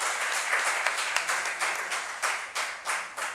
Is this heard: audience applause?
yes